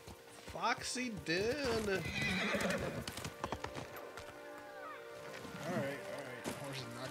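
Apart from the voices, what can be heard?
horse hooves clip-clop in Ghost of Tsushima video game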